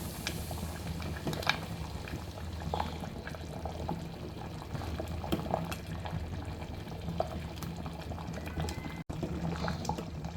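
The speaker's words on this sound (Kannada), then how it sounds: "ಕಡಲೆಬೇಳೆ ಬೆಲ್ಲದ ಪಾಯಸ ಚೆನ್ನಾಗಿ ಕುದೀತಾ ಇದೆ" Chana dal and jaggery payasam bubbling in a pot over a medium flame, a steady close simmer with soft popping bursts running throughout.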